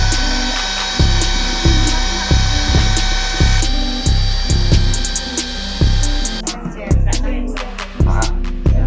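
An electric mixer beats mocaf-flour roll cake batter at speed 5. The motor whines loudly and up close, with rhythmic knocking pulses as the beaters strike the bowl and a brief shift in tone near the end.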